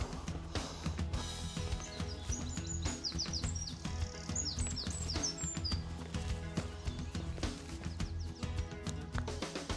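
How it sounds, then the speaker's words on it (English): Birds sing and chirp in bright, quick bursts over a steady background on a spring countryside walk in North Somerset near Wington, their calls clustered mid-clip and fairly close. "The birds are singing."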